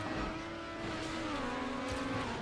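Race car engine from the video game Trackmania Nations Forever, holding a steady buzzing drone that dips slightly in pitch as the throttle eases, loud and continuous with no talk.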